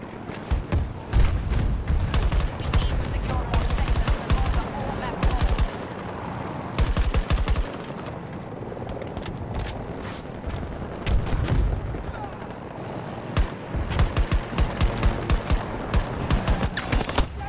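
Battlefield 2042 video game combat: repeated bursts of automatic rifle fire and scattered heavier booms, some near and sharp, others more distant, in irregular clusters across the stretch.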